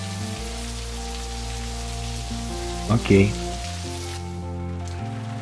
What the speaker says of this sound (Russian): Просто попробуй насладиться дождем.